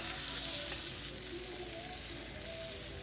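A txuleta beef steak bone sizzles on a hot grill with a steady, crackling fry hiss at close range, no voices over it.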